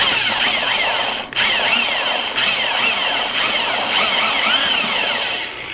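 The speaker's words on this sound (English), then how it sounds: "You can probably use a paint mixer, and a smaller drill, a cordless 20 volt" A power drill with a paint mixer whirs loudly and steadily, dipping briefly a few times as the speed changes while it churns thick dirt.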